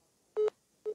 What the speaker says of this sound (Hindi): फोन हमारा यहाँ से संपर्क जो है वो कट गया